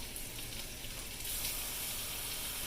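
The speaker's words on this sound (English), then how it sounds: "I'm going to put just enough water to cover them" A steady stream of water pours and gushes into a pot of Swiss steak, continuous and close, growing slightly louder partway through.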